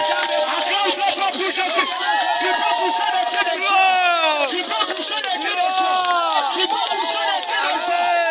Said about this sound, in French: Tu peux pousser le cri de gloire.